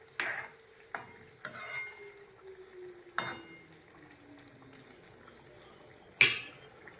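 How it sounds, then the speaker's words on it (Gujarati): A spoon stirs dried cowpea curry in a pot on a gas stove, with a few sharp metal clinks and scrapes against the pan spaced irregularly over faint liquid bubbling, quiet and close. "કરી નાખો મિક્સ બધું."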